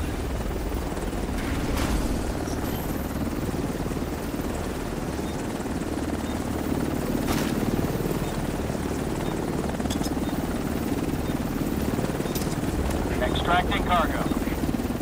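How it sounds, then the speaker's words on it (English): An extraction helicopter arrives in the video game The Division 2. Its loud, steady rotor drone holds for the whole stretch, with voices underneath. "Helo is on site."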